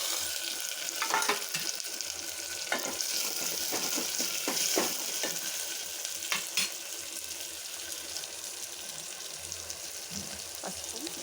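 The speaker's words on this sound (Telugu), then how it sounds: "కడిగి పెట్టుకున్న టమాటాలు కూడా వేసేద్దాం." Washed tomatoes sizzle in a hot pan with oil while a spoon stirs them, giving a steady frying crackle with repeated scraping and clinking strokes, close by and without talk.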